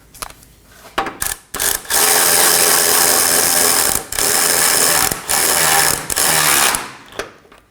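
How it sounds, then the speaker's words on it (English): A ratchet wrench clicks in rapid, loud bursts while snugging down subframe bolts on a 2020 Toyota Corolla during a front control arm replacement, several runs of ratcheting separated by brief pauses. "Now we're going to snug down all of our subframe bolts in an alternating pattern."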